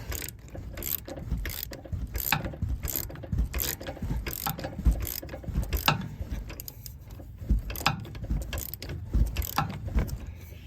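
Rapid, rhythmic clicking of a manual ratchet turning bolts during a Fox 2.0 front shock installation on a 2024 Ford F250, repeated close-up strokes continuing throughout without speech.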